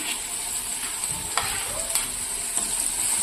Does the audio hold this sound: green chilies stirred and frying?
yes